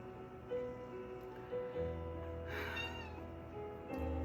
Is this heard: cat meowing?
yes